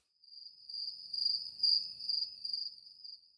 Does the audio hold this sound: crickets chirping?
yes